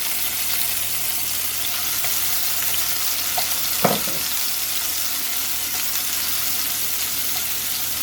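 Garlic and onion sizzle in hot oil in a pan for sweet and spicy shrimp fried rice, a loud, even hiss that runs throughout with one brief utensil clink midway and no voices.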